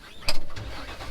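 A Versatile Nemesis tractor engine cranks and catches in a brief close burst of starter churn followed by a low rumbling idle, all within about a second.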